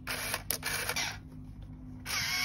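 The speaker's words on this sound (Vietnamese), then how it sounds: "Đây để hết phim nó tự động tua về nè." A small motor whirs in bursts as a Canon WT28 film camera automatically rewinds the film at the end of the roll, a quiet mechanical buzzing that pauses briefly and resumes.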